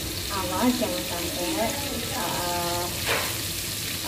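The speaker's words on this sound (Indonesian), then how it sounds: "Ini digoreng dengan api kecil aja ya guys." Sweet-and-sour lollipop mixture frying slowly over low heat in a home kitchen, a soft steady sizzle with light stirring, under someone talking.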